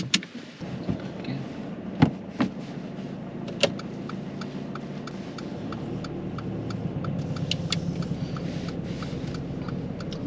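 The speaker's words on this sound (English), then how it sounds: "We need to get this car turned on." A car engine idles and runs steadily throughout, a low continuous rumble with a few sharp clicks and knocks early on, heard up close from inside the vehicle before setting off in icy conditions.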